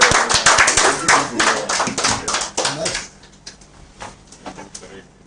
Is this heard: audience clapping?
yes